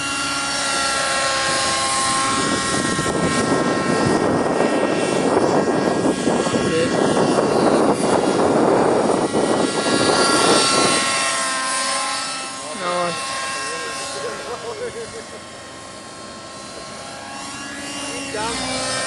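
Aircraft flying circuits overhead, a broad engine roar swelling to a loud peak as it passes near, then fading away into the distance, with people talking nearby.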